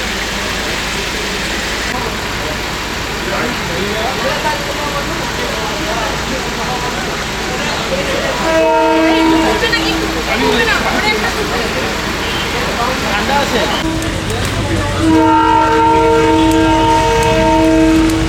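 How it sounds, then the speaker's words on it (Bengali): A 2-foot narrow gauge hill train at Kurseong station in West Bengal, on the line toward Darjeeling, rumbling loudly nearby and sounding two sustained horn blasts, one midway and another near the end. "এই 2 ফিটের মতন ন্যারো গেজের ট্রেনই আমরা এসেছি"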